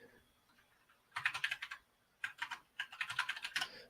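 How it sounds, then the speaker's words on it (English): Close, clicky typing on a computer keyboard in short bursts of rapid keystrokes separated by brief pauses, with no talking over it. "Can't see myself typing, which is hard."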